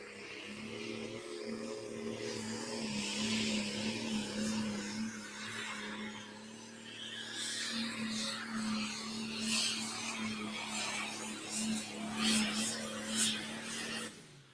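A John Deere pulling tractor roars through a run at an outlaw truck and tractor pull, a loud sustained engine drone with a steady pitch, crowd and arena noise rising and falling over it.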